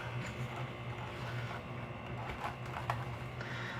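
A plastic zip tie is drawn through its catch to fasten a fall wreath, giving a close, quick ratcheting rasp over a steady room hum, with a couple of sharper clicks near the end.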